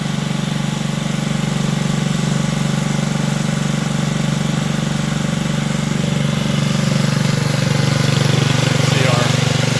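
A Honda GBX 160 small engine on an H-Max machine with a direct-drive transmission runs at a steady idle, a constant low throbbing hum that stays close and even throughout.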